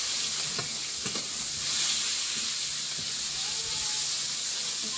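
Chopped onions frying in oil in a home kitchen, a continuous close sizzle with a few soft stirring knocks, steady and fairly loud with no voices.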